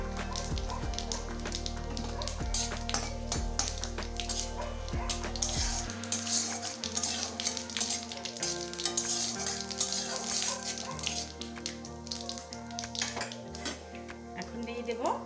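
Whole cumin seeds with dried red chillies and bay leaf fry in hot oil for a dhaba-style egg curry, giving a continuous crackling sizzle. A dog barks now and then, and a voice speaks in the background.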